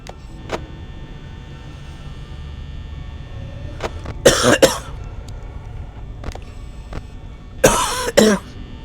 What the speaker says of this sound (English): Sorry for coughing every 5 seconds.